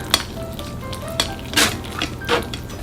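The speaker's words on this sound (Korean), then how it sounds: "뜨거운 물로 이렇게 부어서 어묵의 기름기를 한번 헹궈 주세요" Hot water poured over fried fish cakes (eomuk) to rinse off their oil, heard as a few short, close splashing gushes against a soft steady background.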